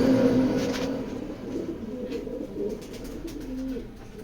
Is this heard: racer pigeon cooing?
yes